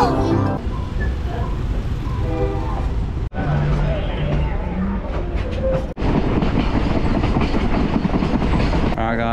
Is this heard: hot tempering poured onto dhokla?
no